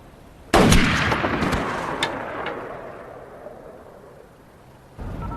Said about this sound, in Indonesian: tanpa ampun dia melepaskan tembakan kepada Li sehingga membuatnya mati di tempat